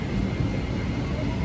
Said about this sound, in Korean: 이제 한국 가는 비행기 타요.